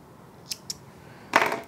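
Scissors snip through red yarn at a knitting machine: two faint clicks of the blades, then one louder, crisp cut near the end, all close by with no talking.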